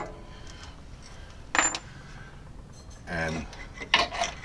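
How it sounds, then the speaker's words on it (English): A bolt slides out of the lower mount of a Bilstein 4600 front shock on a 2004 Suburban, giving a few short metallic scraping and clinking bursts close by, separated by quiet pauses. "down here on the bottom, we can slide the bolt out"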